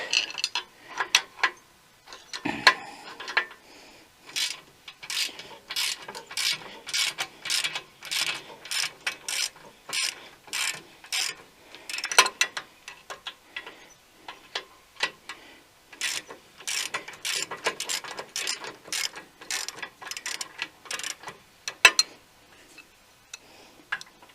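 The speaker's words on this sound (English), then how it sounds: "Now we're going to take the bottom bolt loose." Bottom bolt on a tractor quick hitch being loosened with a ratchet wrench, long runs of close, crisp ratcheting clicks in quick bursts with short pauses, no talk.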